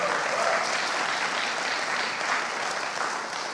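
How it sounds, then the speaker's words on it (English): Church congregation gives a steady, dense round of applause, a wash of many hands clapping continuously and evenly throughout, with no voices standing out. "Somebody needs to give Jesus a great clap offering."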